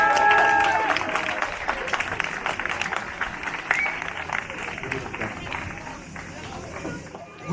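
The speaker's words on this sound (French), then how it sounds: "On peut l'applaudir." Applause from a crowd at a neighbourhood festival in Valdegour swells loudly at first, then thins into scattered clapping and murmuring chatter as it gradually fades.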